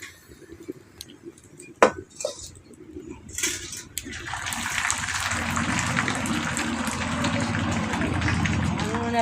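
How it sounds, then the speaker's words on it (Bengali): Water from boiled shrimp pours out of a pan into a perforated bowl, a steady rushing splash that starts after a few clinks of the pan and runs on loudly to the end. "আমি কড়াটা নামিয়ে এটা ঢেলে নেব, জলটা ঝরিয়ে নেব।"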